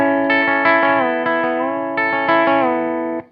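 Electric guitar played through effects with chorus and echo, imitating a pedal steel guitar in a country blues lick: bent, sliding double stops and repeated picked notes, clean and close, with no talking.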